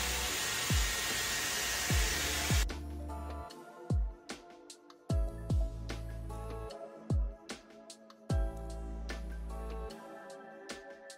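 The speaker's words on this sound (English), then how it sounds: "It's 12, so I'm just quickly gonna dry my hair." A Dyson hair dryer drying hair blows a steady, loud, airy roar for about two and a half seconds, then cuts off abruptly and gives way to music with thumping bass beats.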